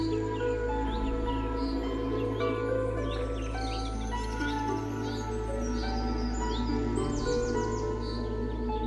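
Bird calls in a cartoon jungle, bright chirps and tweets scattered over a steady background hum, with no one speaking.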